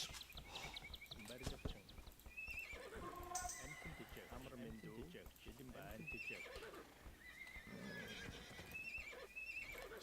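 Horses neigh and whinny from a finished stable in a medieval strategy video game, several shrill calls over clip-clopping hooves while a voice talks steadily underneath.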